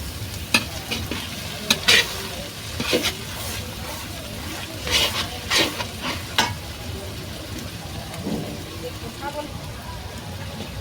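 About 200 grams of garlic fries with chicken in a pan over a clay stove, giving a steady, close sizzle broken by scraping stirs and clatters, with a voice speaking over the cooking.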